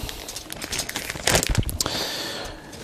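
Plastic packet of model kit stickers for a Gundam Seed GuAIZ First Grade kit being opened, a close, continuous crinkling and tearing of thin plastic with sharper crunches near the middle.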